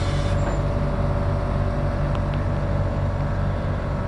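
The adjustable suspension on a 1996 Chevy C1500 Silverado changes its ride height with a loud, steady, continuous mechanical hum and airy drone that holds unchanged throughout, with no one speaking.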